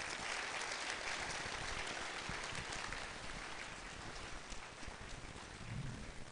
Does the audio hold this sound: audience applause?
yes